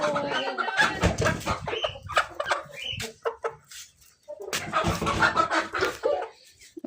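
Chickens cluck busily and loudly, a dense run of squawky calls that pauses briefly midway before the flock starts up again.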